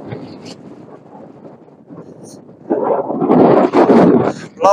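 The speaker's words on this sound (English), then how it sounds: "Blowy, blowy." Strong wind gusts buffet the microphone at an old mining site, a rough low rumble that swells sharply louder partway through and stays heavy to the end.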